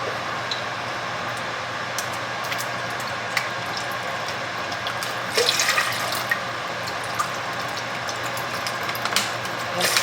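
Water pours steadily into a pot of washed rice for an Instant Pot, making a soft continuous splashing rush with a few small spikes. It stays fairly quiet and has no talking over it.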